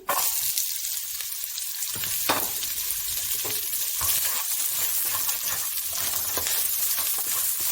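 Onion frying in a spoonful of oil in a wok used for spicy stir-fried beef, a loud, continuous close sizzle with occasional stirring scrapes and faint clinks, no voices.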